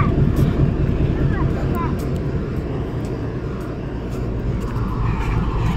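A train engine rumbles loudly at night, a heavy continuous low drone with wind buffeting the microphone, while people talk nearby over the noise.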